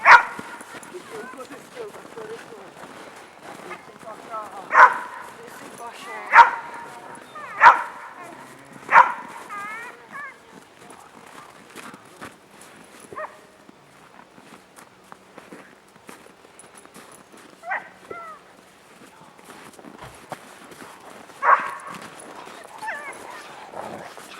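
During protection training a dog lets out a string of sharp, loud barks, tightly spaced at first, then sparser yips and whimpers, with footsteps and a handler's voice speaking between them.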